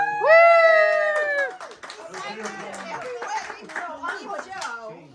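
At a Thanksgiving family gathering, a loud whooping cheer rings out first, then a small group claps while people chatter and talk over the applause.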